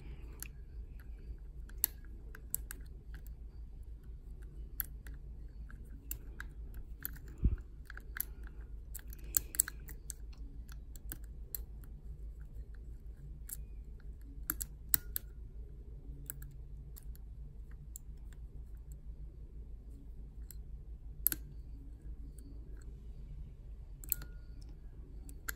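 Faint, sparse clicks from a lock pick working the pins inside a puck lock, a Wez Picks covert style hybrid pick in use, scattered irregularly over a low steady hum with no talk.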